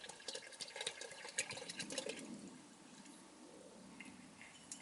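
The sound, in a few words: water being poured into a 5 gallon container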